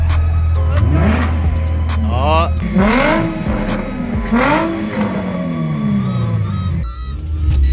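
A car with a Nissan VQ engine revs close by during a late-night mountain run from a local car meet, several rising and falling engine sweeps with a brief voice over them.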